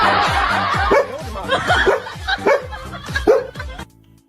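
A dog barks in a run of short, repeated woofs close by, with laughter and chatter mixed in before the sound cuts off abruptly.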